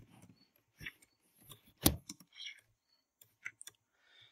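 Scattered clicks and taps from computer keyboard typing while text is entered for a YouTube banner, a few distinct keystrokes and short bursts with pauses between, fairly close and quiet, no talking.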